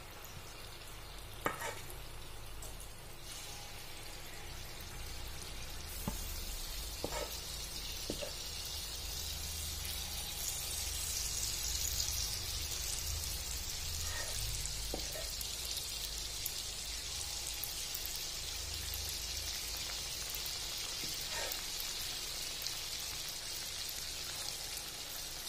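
Rice flour unniyappam batter poured into the wells of a hot appam pan fills the scene with a steady, dense sizzle and crackle, with scattered small pops and clicks over about twenty-five seconds, and no talking.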